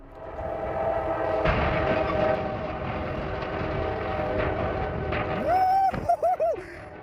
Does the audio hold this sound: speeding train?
yes